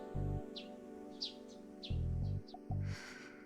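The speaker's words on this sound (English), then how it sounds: "I met the morning with the sound of chirping sparrows" Sparrows chirp in the morning in the video game Chaos;Child, several short faint tweets scattered over a sustained musical background.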